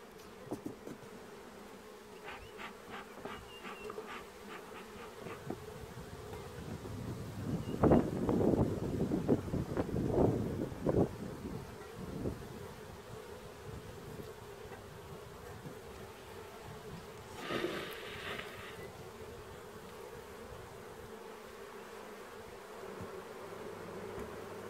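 Honeybees buzz steadily around an open hive in a soft, continuous drone, with a few louder bursts of buzzing close to the microphone and light wind in the background.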